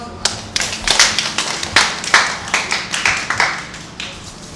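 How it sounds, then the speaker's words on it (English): Audience applause for a speaker at an employability workshop, a modest room of hands clapping in loose, uneven bursts that rise and fade repeatedly for several seconds, with no talk over it. "Please give him a round of applause."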